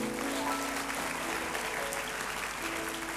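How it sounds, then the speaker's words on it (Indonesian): A church congregation claps steadily during a sermon, a dense, sustained round of applause filling the room. "kasih tepuk tangan untuk Tuhan"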